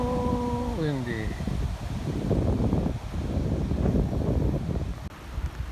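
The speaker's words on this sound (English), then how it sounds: "So windy." Strong gusting wind at a small outdoor pasture buffets the microphone with a loud, continuous low roar and rustle, briefly preceded by a faint tonal whine at the start.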